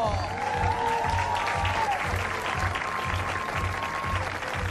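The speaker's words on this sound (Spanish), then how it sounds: "quisiera un fuerte aplauso, por favor, para el mejor bajista del mundo entero" An audience applauds steadily for a bassist at a band's live show, dense continuous clapping close by, with a low rhythmic beat running underneath.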